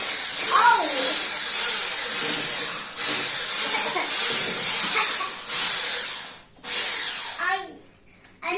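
An electric hand mixer whisks cake batter made with baking powder in a home kitchen, a steady high whirring drone that pauses briefly a few times and stops near the end, with a voice faintly underneath.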